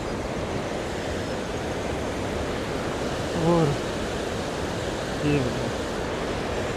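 A mountain stream in Dumnaga Valley, in the Neelam Valley of Kashmir, rushes down in a steady, loud, unbroken hiss of flowing water, while a voice briefly speaks over it.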